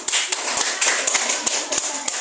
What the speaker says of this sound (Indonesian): berikan aplaus dulu untuk kelompok satu.